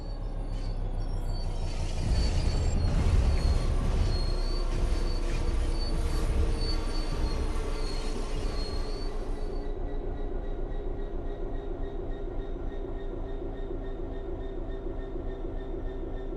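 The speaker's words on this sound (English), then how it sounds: "The train will then coast on level ground, and the train will only slow down very gradually." A train in the Train Sim World 3 video game coasts on level ground, rumbling and clattering steadily along the rails, with a high metallic whine that fades partway through, leaving a continuous low drone.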